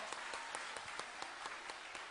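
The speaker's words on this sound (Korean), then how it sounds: "아이들을 위해서 큰 박수 다시 한번 보내주시기 바랍니다" Faint, distant clapping from a church crowd at a praise festival, falling into a quick, even rhythm.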